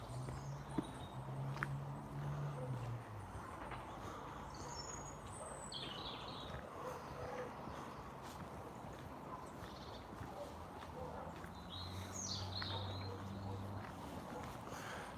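Birds chirp outdoors during a morning walk, with scattered high calls in short bursts over steady ambient noise and a low rumble.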